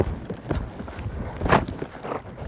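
A young event horse's hooves strike gridwork poles and ground in soft, faint thuds, with one sharper clatter partway through and no talking.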